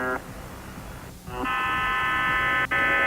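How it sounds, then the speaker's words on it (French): The Buzzer, a Russian shortwave radio station, sounding its steady harsh buzzing tone that stops, restarts and briefly breaks over a hiss of static. "Le buzzer cesse, reprend, s'agite, s'éteint plusieurs fois de suite."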